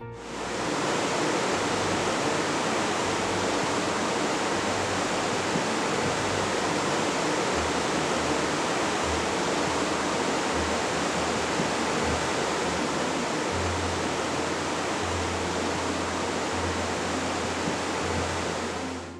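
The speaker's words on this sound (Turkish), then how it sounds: "48 metre yüksekten dökülen sular da Tortum Şelalesi'ni ortaya çıkarmış" Tortum waterfall in Erzurum, Turkey, water plunging 48 metres, a dense unbroken roar that stays loud and steady throughout, heard alone with no voices.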